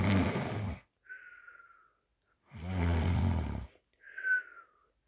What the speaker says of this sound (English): snoring peacefully